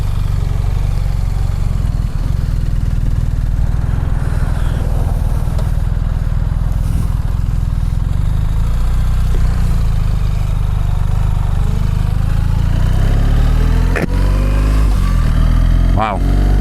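A BMW R1300RT sport-touring motorcycle pulls away in automatic drive mode, its engine a steady low drone that builds as it accelerates, with quick gear shifts and a rider talking over the sound.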